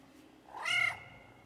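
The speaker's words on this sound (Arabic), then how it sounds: "this cat is now like in my house for some weird reason" A stray cat inside a house gives a single short, fairly faint meow in a quiet room.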